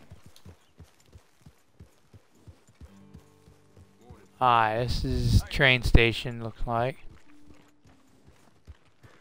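A horse's hooves clip-clop at a steady walk in the video game Red Dead Redemption 2, in the town of Valentine. The even, moderately loud hoofbeats run throughout, and someone talks over them in the middle.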